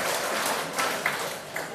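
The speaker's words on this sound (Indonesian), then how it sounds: "Tepuk tangan untuk" Audience claps for a pastor at a live religious debate, a brief, soft wash of applause with a few sharper individual claps rising out of it.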